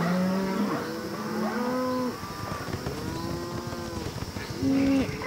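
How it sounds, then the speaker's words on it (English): Valuable cattle gone feral in the bush mooing repeatedly, several long, loud lowing calls overlapping from different animals, some near and some farther off, with no talk. "Valuable cattle wander off into the bush."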